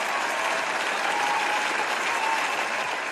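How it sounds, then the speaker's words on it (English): A round of applause from an audience, dense and continuous clapping at a steady, moderate level throughout, with no speech over it. "Give a round of applause."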